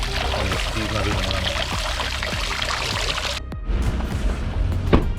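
Water gushes steadily out of the bailer tube of a Sea-Doo personal watercraft that sank during Hurricane Ian, a continuous loud pouring that thins out partway through, with a few knocks and bumps near the end.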